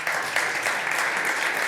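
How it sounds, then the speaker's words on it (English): Audience applause for the participants of a panel on financing universal health coverage, a dense, steady wash of many hands clapping at close range with no speech over it. "So big applause to our participants for this panel right now."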